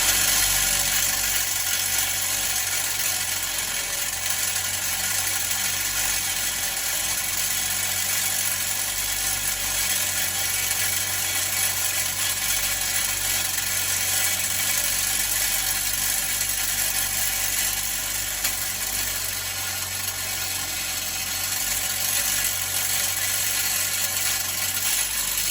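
A grinder strips weld clinker from a metal security door with a continuous, loud, high-pitched whir that runs unbroken for the whole stretch, without speech.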